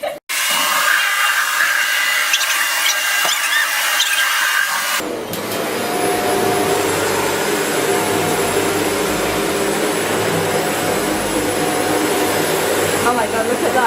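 After a few seconds of quieter room noise, a Shark DuoClean NV801UK powered lift-away vacuum starts up on carpet with a sudden loud roar that holds steady to the end, while people talk over it.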